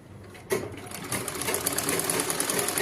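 A sewing machine stitches a saree, starting abruptly after a brief quieter moment and then running as a loud, continuous, steady whir with a faint high whine, with no one talking.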